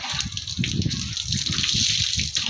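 Water runs and splashes steadily while a dog is bathed, a close, continuous gushing like a tap or hose filling a tub, with no talk over it.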